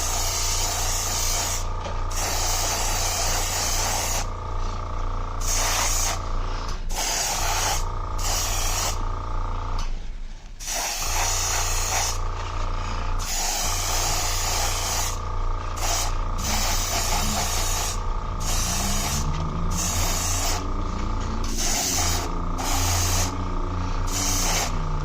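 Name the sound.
spray painting another coat on a model car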